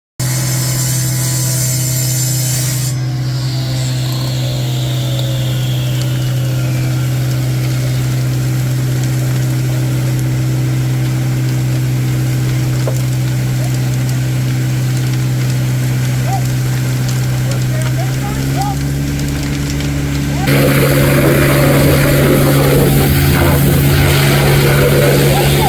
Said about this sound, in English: tool called a quick cut saw to slice through the metal bolt. This saw is extremely loud.